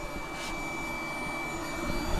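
Steady broadband whir of an air pump blower feeding a fishroom central air system, muffled through a baffled box, running continuously at a constant level with no talk.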